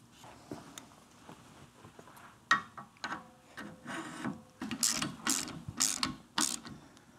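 In the workshop, a special C wrench works on the front end of a Triumph Tiger Cub motorcycle. Quiet, sporadic metallic clicks, scrapes and rubs grow into louder, sharper bursts toward the end.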